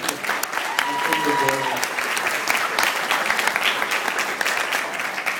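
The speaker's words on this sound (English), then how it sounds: "Let's give the bride a round of applause." Wedding guests applaud the bride during a best man's speech at the reception: a full, dense round of clapping that runs throughout, with a few voices and cheers mixed in.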